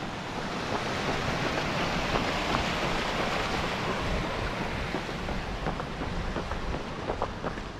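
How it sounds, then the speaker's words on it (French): Péruy stream running below a trail in the Sainte-Baume hills, a steady broadband rush of flowing water heard at a distance, blended with wind across the microphone and no voices. "En contrebas, le ruisseau de Péruy."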